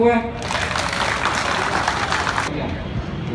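Group applause from staff at a fire drill and fire-handling simulation in a market, a dense burst of clapping that starts suddenly and stops after about two seconds, with a voice briefly present before it.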